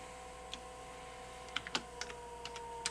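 Sparse, faint keystrokes on a computer keyboard while text is entered with a design program's type tool, a handful of irregular light clicks over a steady electronic hum.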